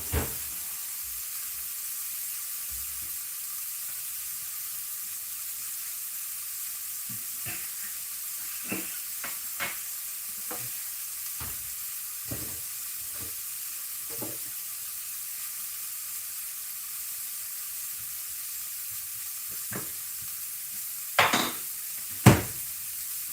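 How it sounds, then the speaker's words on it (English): Vegetables sizzle in a frying pan with a steady hiss, punctuated by scattered clinks and scrapes of a utensil stirring against the pan, and a couple of louder knocks near the end. "Stir your veggies around."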